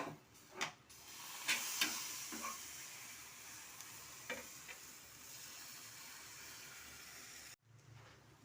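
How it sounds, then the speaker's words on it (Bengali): Batter for patisapta crepes fries quietly in a pan, a faint steady sizzle with a few spatula scrapes early on and a brief cut near the end. "সব কটা এইভাবে আমি ভেজে নেব।"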